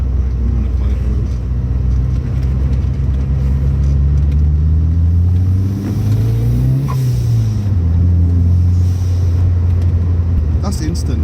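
A Ford Fiesta RS Turbo with a small T2 turbo pulling on a quiet road, its engine droning loudly and rising in pitch as it accelerates, then dropping back to a steady rumble, heard from inside the car.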